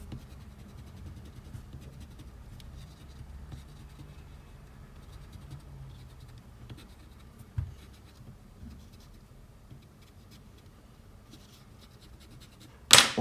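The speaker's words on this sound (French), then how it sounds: "on vient gommer nos traits de construction du dessin" Pencil construction lines being erased from a 3D-effect drawing of Rick, a soft, faint, continuous rubbing and scratching that runs steadily throughout, with a brief sharp knock close to the end.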